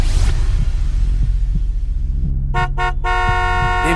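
A buzzer sounds during a car quiz show round, a loud electronic tone in short repeated bursts near the end, over a low hum and background rumble.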